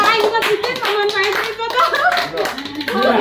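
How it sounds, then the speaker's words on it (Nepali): A speaker claps his own hands at a talk, sharp claps mixed with his loud speaking voice, close and continuous. "ताली पनि मै बजाउँछु"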